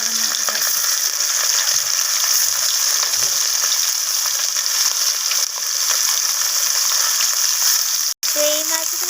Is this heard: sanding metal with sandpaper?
no